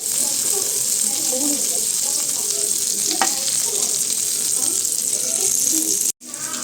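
Chicken seekh kababs fry in a pan with a steady, loud hiss and crackle of oil throughout, briefly cutting out near the end.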